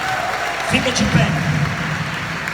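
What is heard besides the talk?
congregation applause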